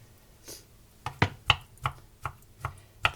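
Olives are chopped with a knife on a board in half a dozen crisp, close knocks at an uneven rhythm, with no talking.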